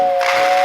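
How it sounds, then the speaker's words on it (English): Lionel 681 model train's whistling tender giving a steady, close, loud steam-style whistle tone that holds throughout the brief moment. "it's got a whistling tender."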